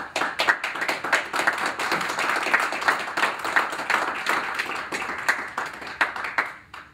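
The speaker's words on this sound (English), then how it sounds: "let's just begin by giving all of our candidates a round of applause" An audience at a National Park Service advisory board candidates forum claps steadily for several seconds, a dense patter of many hands that tapers off at the end.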